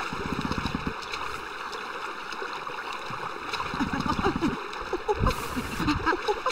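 A video game waterfall in Conker's Bad Fur Day pours as a steady rushing wash under tonal background music, with people talking over it and a few louder splashing surges.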